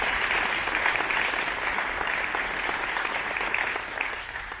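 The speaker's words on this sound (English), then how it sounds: "How about a big round of applause for everybody here that has made this happen?" Sustained crowd applause at a farm groundbreaking ceremony in Southern Illinois, a steady wash of many hands clapping at moderate distance, holding evenly for several seconds before easing slightly.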